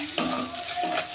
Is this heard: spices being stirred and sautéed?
yes